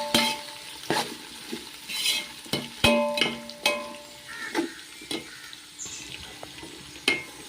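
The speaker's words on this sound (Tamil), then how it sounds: "ஓரளவு நல்லா வதங்கிட்டுருக்கு." Onions sautéing in a pan for homemade chicken dum biryani: a steady frying sizzle broken by repeated spoon scrapes and clinks against the pan, close and fairly loud, with no voices.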